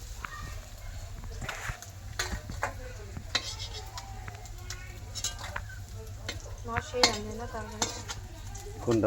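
Fish frying in a pan at home: a low steady sizzle beneath clinks of utensils and pots, scattered clatter and footsteps, with voices speaking intermittently nearby.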